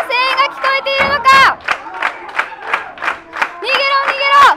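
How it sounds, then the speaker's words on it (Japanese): Fans at a Shinjuku Face wrestling show cheer loudly, with sustained vocal chants broken by short rhythmic shouts and claps, the crowd noise filling the hall from start to finish. "この会場の声援が聞こえているのか、"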